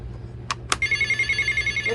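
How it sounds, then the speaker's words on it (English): A toy from the 1980s or 1990s plays a traditional telephone ring: two sharp clicks, then a steady, pulsing electronic bell that continues without a pause, close and clear. "The traditional phone ring."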